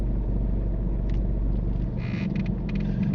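A car pulls away at the start of a driving test, a low steady engine rumble from inside the cabin with a few faint clicks over it.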